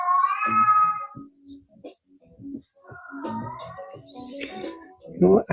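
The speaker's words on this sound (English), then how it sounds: "Even my cat's impressed." A house cat meows in long, drawn-out, wavering cries, one at the start and another in the middle, close and fairly loud with quieter murmurs between.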